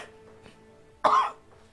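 A single short, sharp cough with throat clearing from a commentator at a Wild Rift esports match, close and fairly loud against a quiet background.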